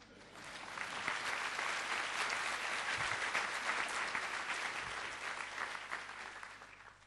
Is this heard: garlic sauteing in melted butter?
no